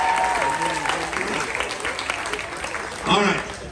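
Cruise ship audience applauding a contestant during a game show, steady clapping and crowd noise under the host's loud voice, which cuts in and out over it.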